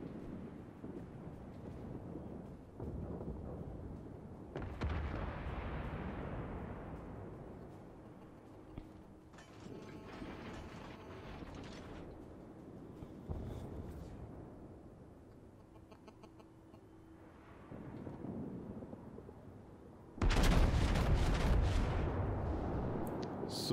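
An Arizona battleship fires its naval guns in World of Warships, with booming salvos rolling out over a quiet ambient background and a much louder blast arriving near the end.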